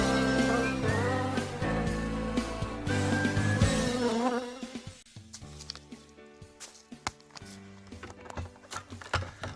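Honey bees buzz around their hives as they are wintered down and fed, a dense, close droning hum for the first few seconds that then thins into sparser, fainter buzzing.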